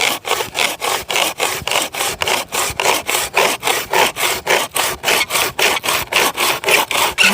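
A hand saw rasps through hardwood in steady back-and-forth strokes, quick and rhythmic, close and loud with no voices.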